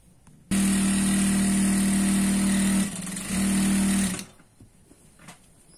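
A sewing machine runs a seam down the side of a Punjabi dress, one loud close whirring burst of about four seconds with a brief dip midway, then stopping into a quiet room.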